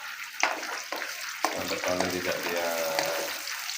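Shallots and large red chilies sautéing in a pan while making pesmol fish, a steady close sizzle with stirring scrapes and faint talk over it.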